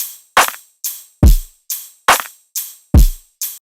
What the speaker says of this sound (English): Nothing crazy, just a basic drum rack.